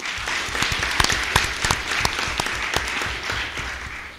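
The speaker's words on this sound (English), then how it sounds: "Let's give them all another round of applause." A crowd applauds warmly, many hands clapping at once in a brisk, sustained burst that fades slightly toward the end.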